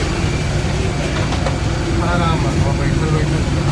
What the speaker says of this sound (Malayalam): ഇതാണ് ഞാൻ വന്ന ഫ്ലൈറ്റ്.